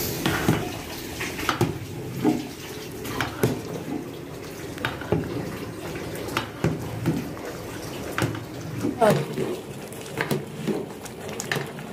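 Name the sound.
mixing washed rice with beef for biryani in a large pot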